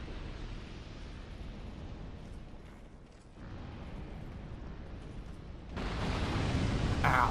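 Fire roaring in the video game Dark Souls 2, a steady broadband rushing roar that dips briefly and then swells louder near the end, with no speech.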